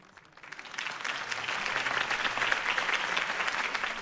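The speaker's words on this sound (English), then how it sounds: "If only Mr. Wayne, my campaign's largest backer, could have heard that applause" Crowd applause after Harvey Dent's campaign speech in the Batman Telltale video game, swelling quickly from near silence into a sustained, dense roar of clapping.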